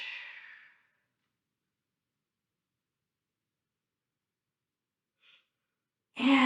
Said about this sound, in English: Big inhale. Exhale, last time and switch.